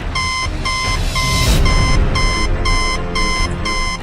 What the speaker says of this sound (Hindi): वो जोर जोर से बीप कर रही थी